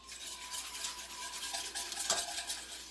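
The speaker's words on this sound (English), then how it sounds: "we're going to mix this up. Get yourself a little whisk." A small whisk stirs a homemade mixture in a dish, making a faint, continuous scraping and swishing with a few light clinks against the sides. No one speaks.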